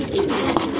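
Paired domestic pigeons in a loft coo softly and steadily, a low repeated throaty call close by with no one talking.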